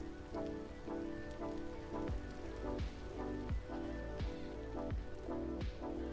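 Rain in the video game Vintage Story, heard from inside a building as a steady patter on the surface with rhythmic drip-like ticks, even and moderately loud, with no talk.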